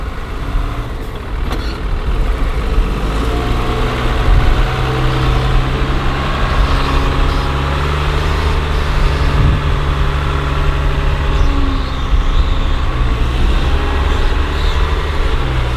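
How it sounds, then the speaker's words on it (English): A Cummins diesel engine runs steadily at idle on a harvest job involving loading and baling, a continuous low rumble with no pauses, close and fairly loud, with no talk over it. "Old Cummins is sounding sweet"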